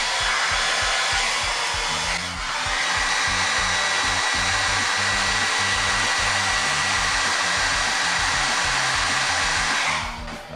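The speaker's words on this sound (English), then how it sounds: "It's a hair dryer. Have it on low heat, and we're just going to heat up the hands" A hair dryer blows hot air onto an action figure's plastic hands to soften them, a steady loud roar lasting about ten seconds, with a slight shift in tone partway through and no talking.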